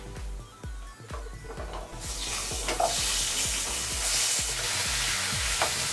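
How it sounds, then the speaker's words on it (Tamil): Eggplant and drumstick pieces sauté in oil with onions for South Indian sambar, starting with a rapid series of spoon taps and scrapes, then swelling into a loud, steady sizzle with occasional stirring knocks. "இந்த கத்திரிக்காய் முருங்கைக்காவை எண்ணெயிலேயே ஒரு 2 நிமிஷம் வரைக்கும் வதக்கிக்கோங்க."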